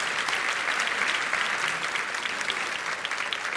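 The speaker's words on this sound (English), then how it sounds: "please give her a round of applause." Sustained applause from a live podcast audience inside a theatre, steady and dense clapping filling the room without a break.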